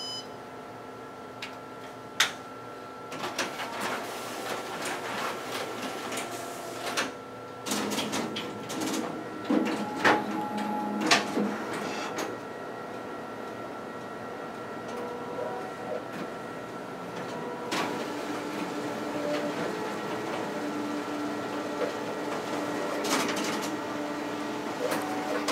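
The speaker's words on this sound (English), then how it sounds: "test out the document feeder as well as the stapling feature on our finisher" A Xerox Workcentre 7525 copier feeds pages through its document feeder and staples them in the finisher, with whirring motors, rapid mechanical clacks, beeps and a steady running hum over about twenty-five seconds.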